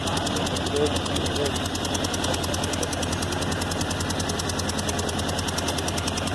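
A car fitted with a Yamaha R1 1000cc four-cylinder four-stroke engine idles with a dense, steady buzzing drone, with faint talk underneath.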